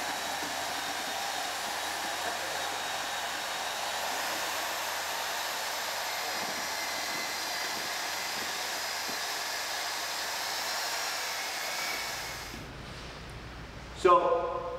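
A mixer drill whirs steadily for a long stretch while mixing panel mix for patching in a bucket, a constant loud motor hum that cuts out near the end, followed by a brief rattle.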